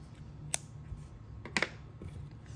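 Scissors snipping through a long strand of black yarn for crocheting a bear, two or three crisp, close cuts in a quiet room with no talking.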